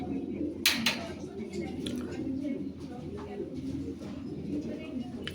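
Cream-bar male and yellow female Lahori pigeons coo softly in a low, continuous murmur, with a sharp clatter near the start and someone talking over them.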